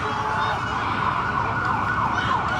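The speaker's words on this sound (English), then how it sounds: "So it looks like the ambulance is going to go up toward the direction of the interstate." An ambulance siren wails loud and close with a steady, continuous tone during a street protest march in Iowa City, with dense traffic and crowd noise underneath.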